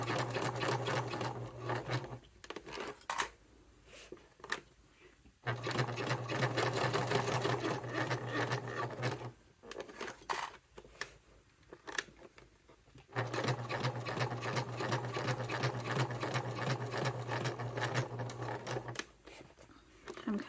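Sewing machine stitching the flap of a satchel, running in long steady bursts with a rapid needle patter, pausing between runs with faint handling sounds in the gaps.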